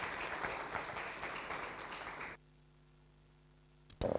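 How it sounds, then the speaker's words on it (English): Conference audience applauding at a tourism investment event, a full burst of clapping that cuts off abruptly midway, followed by near silence with a faint hum and a brief noise at the very end. "Another round of applause, ladies and gentlemen."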